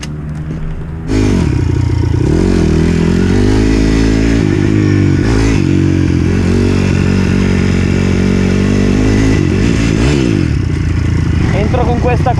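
A pit bike motorcycle rides on a track, its engine droning loud and close throughout with repeated revving dips and rises as it accelerates and shifts, plus some scraping clatter.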